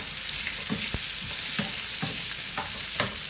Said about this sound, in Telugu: ఉల్లిపాయలు కూడా వేగాలండి